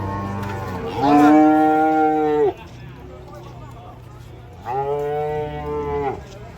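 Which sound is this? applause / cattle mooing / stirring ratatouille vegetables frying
cattle mooing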